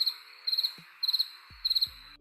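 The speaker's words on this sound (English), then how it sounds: "All of a sudden you can hear crickets." Crickets chirping as a sound effect: rhythmic bursts of high, pulsing trills repeating about every half second over a faint steady hiss, with a few soft low thumps between.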